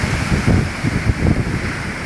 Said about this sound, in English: This sea is picking up a lot more spirit. Waves are higher